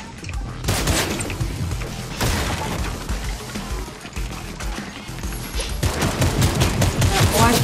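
Gunfire in the video game Fortnite, a dense run of rapid shots and bursts with some booming impacts, loud and continuous throughout, with a player's voice talking over parts of it.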